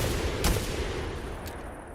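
Drilling gun fired in theHunter Classic hunting game, one dull booming shot followed by rumbling, echoing field ambience, moderately loud and alone without talk.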